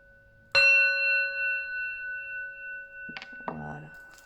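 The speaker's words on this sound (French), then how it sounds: "Un petit gong." A small gong is struck once, ringing out with a bright, sustained metallic tone that slowly decays over several seconds before a few quieter knocks and a short voice break in near the end.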